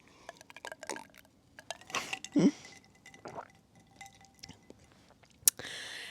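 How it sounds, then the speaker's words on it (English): Ice cubes clinking against a glass of Coke Zero, a few light, sharp taps with liquid shifting and a soft sip, close and fairly quiet, with no talking. "I don't know if you can hear the ice cubes."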